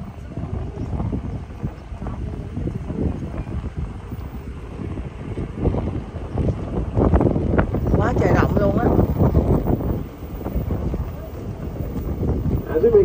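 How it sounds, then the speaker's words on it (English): Strong wind buffets the microphone along a walking route through the South Africa habitat at a zoo, a constant low roar that swells louder in the second half, with a person talking over it. "it's going to be pretty windy the whole way"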